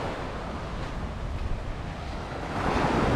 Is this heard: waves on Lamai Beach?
yes